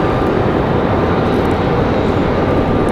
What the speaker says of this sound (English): Where is PSA headed? They're headed to Philadelphia.